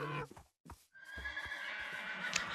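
A horse in the Minecraft video game neighs in a sharp whinny, followed by a brief gap and then a longer, bright descending whinny with a high squeal near the end, close and clear with no talking.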